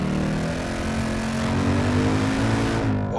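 A 2021 RTR Ford Mustang engine revs hard while drifting, a loud sustained growl with steady harmonic tone holding throughout, close and alone with no talk.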